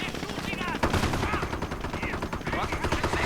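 Heavy .50 caliber machine gun fire from an M8 armored car in a war video game rattles in sustained bursts amid other battle noise and distant gunfire, loud and dense.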